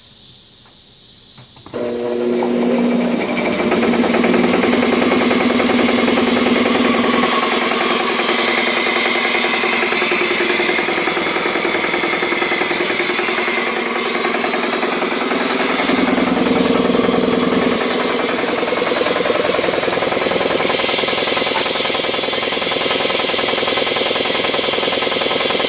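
A Harbor Freight style air compressor kicks on after a moment of quiet and runs loud and steady, a close, droning motor rattle that holds for over twenty seconds without speech.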